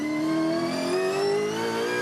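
Supercars Championship race car in New Zealand accelerating hard, its engine note climbing steadily in pitch as it closes on a rival, loud and close throughout with no voices.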